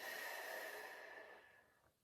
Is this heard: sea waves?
no